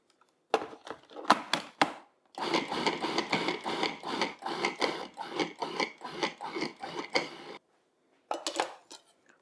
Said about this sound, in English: that's also going to go in the food processor and get minced